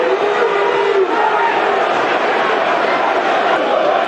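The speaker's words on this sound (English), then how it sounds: "The crowd are not happy." An unhappy football crowd at Millwall's ground, the Den, during a 0-2 home match against Luton Town, a loud, continuous roar of massed voices with chanting and shouting that fills the whole stretch without a break.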